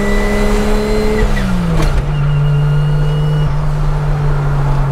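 A 2000 Ford Lightning pickup engine revs hard toward 7,000 RPM and holds at a high, steady pitch, loud and close, with a brief dip partway through.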